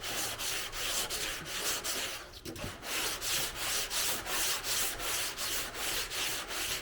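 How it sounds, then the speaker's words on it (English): A sanding block scrubs across car body filler during home body work, making steady, rhythmic back-and-forth rasping strokes that are close, fairly loud and unbroken apart from a brief pause, with no talking. "I'm going to hit it with the sanding block here in a second"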